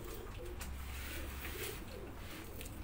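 A Kasuri pigeon coos softly against a steady background hum, with no voices.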